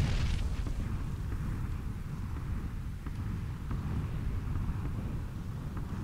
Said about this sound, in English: Toss the frag out, toss the frag out.